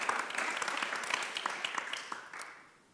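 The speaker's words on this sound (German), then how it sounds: "dein Applaus" Conference audience applause at a sports panel in Vienna, a dense patter of many hands clapping steadily, then thinning and fading toward the end.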